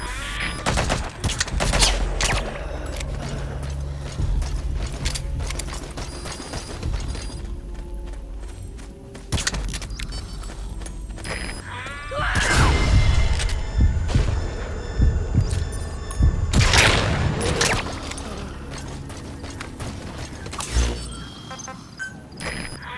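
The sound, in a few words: gunfire in the video game Metal Gear Solid V: The Phantom Pain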